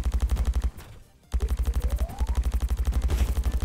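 An automatic gun fires in rapid bursts in the video game Wally and the Fantastic Predators, loud and rhythmic, with a brief pause before the shooting resumes.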